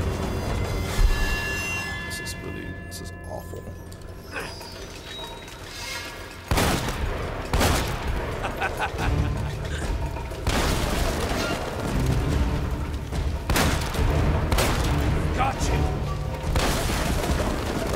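Shotgun blasts in Uncharted: Drake's Fortune, several loud booming shots scattered through an ongoing firefight with heavy background combat noise.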